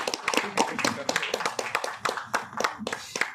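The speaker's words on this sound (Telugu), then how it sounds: "చప్పట్లబ్బా." Audience clapping as a music director is invited onto a stage: a short, sparse burst of irregular hand claps, fairly close and moderately loud, with no voices over it.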